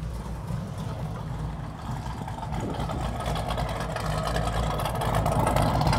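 A loud 1974 Chevrolet Corvette engine runs steadily at idle with a deep, rumbling low-end tone, heard alone and growing slightly louder toward the end.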